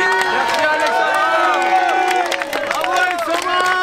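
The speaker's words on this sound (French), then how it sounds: "je vais vous demander de faire un tonnerre d'applaudissements et de dire merci à Alexandra" A crowd at the finish of a long-distance run from Lourdes to Montmartre applauds and cheers for a participant. Clapping and raised, whooping voices layer over one another in a lively, continuous burst.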